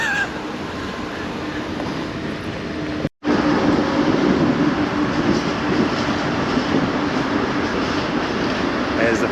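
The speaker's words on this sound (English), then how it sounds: "As the freight train goes by" A freight train with tagged boxcars rumbles past close by in Brno, Czech Republic, a steady heavy roar with rattling wheels that carries on throughout, briefly cut by a momentary dropout.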